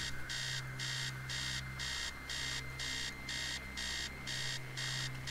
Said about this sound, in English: Somehow the alarm stops.